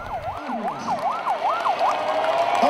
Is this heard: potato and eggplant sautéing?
no